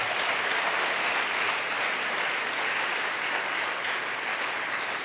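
A church congregation applauds loudly for the Lord, a steady dense wash of many hands clapping together for about five seconds with no talking over it.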